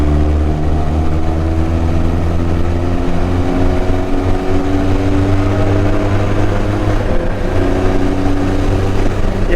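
A Benelli TRK 502 motorcycle rides through a tunnel, its engine holding a loud, steady, humming drone with strong even harmonics, close and continuous with no voices.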